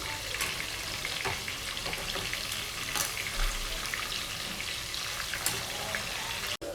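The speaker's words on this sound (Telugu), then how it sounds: "ఆ చికెన్ అంతా కూడా ఇప్పుడు ఫ్రై చేస్తున్నామండి" Chicken pieces fry in oil for fry piece pulao, a steady dense sizzle with occasional crackles and faint stirring taps, fairly close and continuous with no talking.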